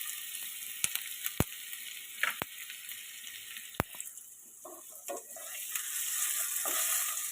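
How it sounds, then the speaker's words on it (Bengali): Diced potatoes, carrots and beans fry with a little salt in a pan, a soft steady sizzle broken by sharp spatula clicks and scraping stirs. "সামান্য লবণ দিয়ে আমি একটু ভেজে নেব।"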